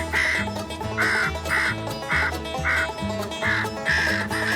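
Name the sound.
crow calls played from Fox Pro electronic caller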